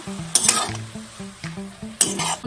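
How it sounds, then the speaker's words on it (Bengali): Spinach with dried red chillies, split green chillies, kalo jeera, salt and turmeric frying in a pan, stirred with sharp spoon scrapes against the metal over a constant sizzle, close and alone. "পালং শাক নাড়াচাড়া দিয়ে নিলাম"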